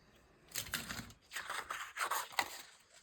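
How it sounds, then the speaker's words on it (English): Scissors fussy cutting around a paper house shape, three close, quiet bursts of snipping and paper rustle separated by short pauses. "We'll fussy cut that house and stick him somewhere."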